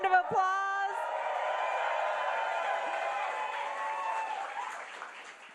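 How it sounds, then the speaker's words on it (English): Supporters at a campaign primary-night rally in Los Angeles break into loud sustained applause mixed with whoops and shouts, a dense crowd roar that slowly tapers off. "let's give ourselves a huge round of applause"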